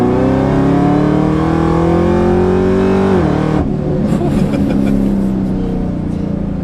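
A 700whp Camaro ZL1 accelerating hard, engine note climbing steadily and loud, then a quick shift dip before the roar continues with rising wind and road noise from inside the car.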